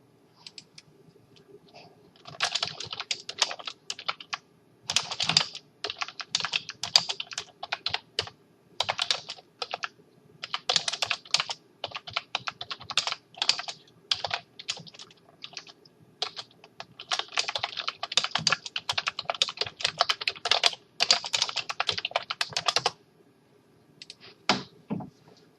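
Someone types on a computer keyboard in close, irregular flurries of clicking keystrokes with brief pauses, continuing for over twenty seconds before trailing off into a few isolated taps.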